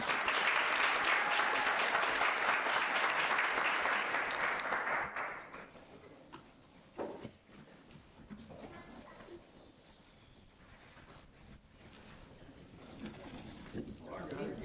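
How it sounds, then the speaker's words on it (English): Loud, dense clapping from a crowd for about five seconds, then it fades into quieter room murmur and scattered noise. "Let's give our scholars and our educator a round of applause."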